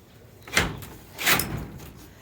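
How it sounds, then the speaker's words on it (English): A stuck greenhouse door is forced open in two scraping, rattling shoves about a second apart, close and fairly loud with no voices. "the door is stuck."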